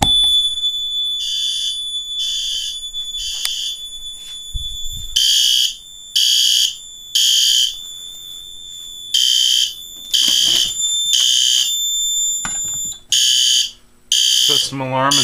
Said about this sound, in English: As you hear, it's sounding, showing the basement pool station is activated.